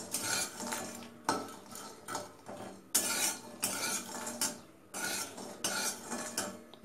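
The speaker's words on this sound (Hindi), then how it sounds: "इसको थोड़ा लाल होने तक भूनना है।" Urad dal bari dumplings roasted dry in a pan while being stirred, giving loud, repeated scraping and clattering bursts of utensil against metal in an uneven rhythm, close and without talk.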